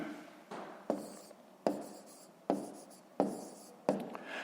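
Handwriting in a notebook while working a school maths exercise: close pen strokes scratch in several distinct bursts, each starting sharply and trailing off, in a quiet setting without speech.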